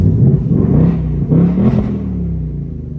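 A 2025 Mustang GT engine revs loud and close with the windows down, a deep rumbling growl rising and falling through several throttle blips over a steady idle.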